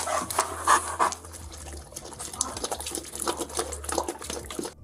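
Loki the dog pants quickly and steadily up close, his breaths loud and rhythmic, with faint wet licking or dribbling noises mixed in and no voices.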